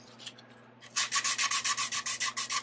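Sanding the edge of a 3D-printed Mandalorian gauntlet smoothed with filler: a few light scrapes, then a fast, rhythmic run of about fifteen close, crisp rubbing strokes over a faint steady hum.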